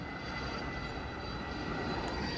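An IndiGo airliner flying near the railway station by Bengaluru airport, a steady, loud, broadband engine roar with no talk.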